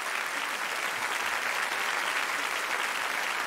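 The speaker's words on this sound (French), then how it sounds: "Merci, on applaudit très fort." A studio audience at a televised holiday choir show applauds, a dense and even roar of clapping that holds steady throughout, with no voices.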